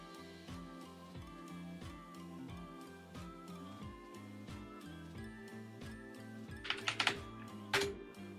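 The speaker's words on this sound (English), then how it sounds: "Let me use English keyboard." Keys clatter on a computer keyboard in quick, irregular bursts over soft background music, with a few sharper, louder clicks near the end.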